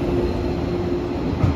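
A JR West 115 series suburban electric train on the Sanyo Main Line near Okayama, rumbling steadily and loudly throughout with a constant low hum and a slight bump near the end, no voices.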